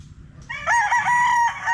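A rooster crows loudly and close by, a single drawn-out call with several harmonic bends, rising out of quiet farmyard background.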